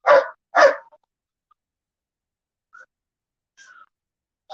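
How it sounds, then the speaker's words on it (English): A dog gives two sharp, loud barks close by, followed by silence and a few faint distant sounds. "You'd swear he's so ferocious with as much as he barks when he's outside"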